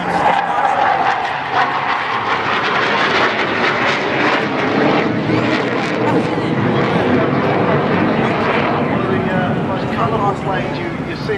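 A Hawker Hunter jet flies at the 2011 Clacton airshow, producing a loud, continuous roar that fills the whole stretch, with a commentator talking over it on the public address.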